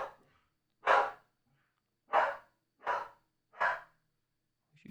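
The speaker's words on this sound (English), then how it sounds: "She's barking." A dog gives four separate, loud barks spaced about a second apart, close by, with short silent gaps between them and no talking.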